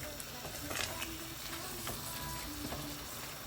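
Hand-mashed potatoes being stirred in a pot for Nepali-style vegetable thukpa: soft scraping and faint sizzling with light clinks, quiet and close, no speech.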